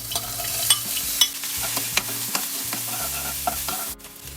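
Lemongrass spice paste fries in three tablespoons of hot oil with a constant crackling sizzle, punctuated by light taps and scrapes of a utensil in the pan.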